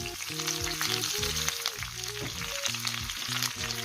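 Steady, loud sizzling and crackling of chicken liver frying in a hot pan, with music playing alongside.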